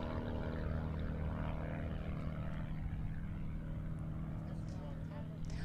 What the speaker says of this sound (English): the airplane actually flies backwards through the sky